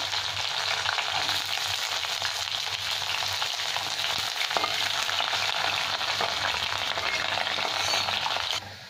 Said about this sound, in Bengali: ভেজে নিচ্ছি আমি তেলের মধ্যে